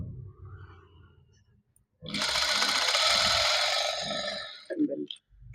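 A sewing machine stitches along a blouse fabric edge in one loud, close burst of rapid whirring lasting about two seconds, with softer handling clicks before and after, in a tailoring lesson.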